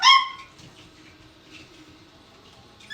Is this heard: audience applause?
no